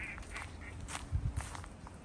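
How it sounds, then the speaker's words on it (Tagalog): Frogs and birds call in a Japanese forest near a river and ponds: a quick burst of three or four low, duck-like croaks stands out among faint, scattered chirps, fairly distant and with no talking. "narinig po natin ng mga huni ng ibon at mga palaka"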